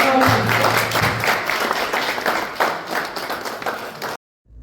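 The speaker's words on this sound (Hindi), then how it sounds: "जिसके लिए तालियां बज रही हैं" Applause at a women's tennis tournament trophy ceremony in Panipat for Japanese champion Mishka Ozeki, dense loud clapping from a crowd that carries on steadily, then cuts off abruptly near the end.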